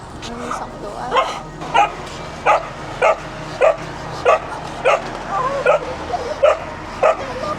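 A dog barks repeatedly at a Thai dog rescue, a steady run of sharp, evenly spaced barks with a few yips and whimpers, fairly close, over background chatter and outdoor noise.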